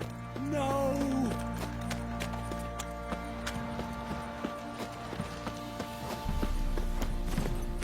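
A horse's hooves clip-clop in The Witcher, a steady stream of light hoofbeats under ambient game sound and a brief voice.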